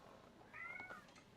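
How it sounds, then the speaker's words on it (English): A house cat gives a single short meow at low volume in a quiet room, brief and somewhat distant. "We have a cat."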